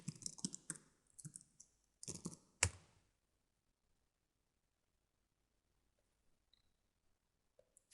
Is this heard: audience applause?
no